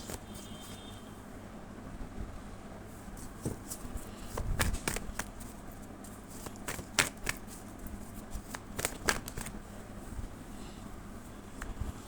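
Tarot cards are shuffled by hand, giving soft, intermittent riffling and flicking with a few sharper snaps, close but fairly quiet.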